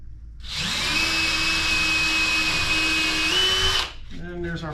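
A power drill boring a hole into a metal stud for a wall cabinet mount: one loud, steady high whine lasting about three seconds, ending abruptly, followed by a brief voice.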